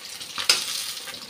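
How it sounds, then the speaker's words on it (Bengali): Fish heads rubbed with salt and turmeric, broken into pieces, sizzle and crackle in a pan of hot oil, a steady close hiss with one sharper spit partway through. "মাছের মাথাগুলো একটু ভেঙে ভেঙে ভাজছি।"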